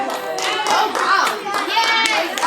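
Audience applause for a student named Loretta during a science author presentation at a middle school, bursts of clapping mixed with children's voices and chatter.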